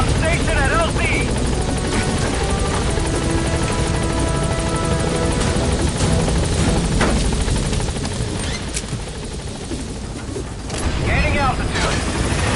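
An enemy helicopter in the game Metal Gear Solid V: The Phantom Pain, its rotor a loud, constant throbbing drone that dips briefly and then swells again, with radio voices talking over it.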